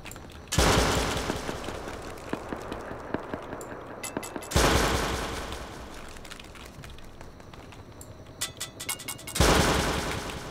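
Three heavy gunshots in the Rust video game during a raid, evenly spaced and each with a booming crack and long decaying echo, loud and close.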